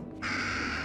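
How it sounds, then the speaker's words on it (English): A single crow in the horror game Little Hope gives one short, harsh caw, close and clear against quiet background. "That's a crow."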